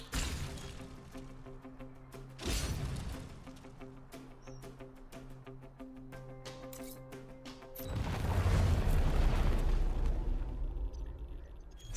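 Artillery explosions in Into the Breach strike as two separate heavy blasts, the second a longer rumbling boom, over a quiet game music bed with no speech.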